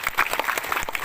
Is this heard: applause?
yes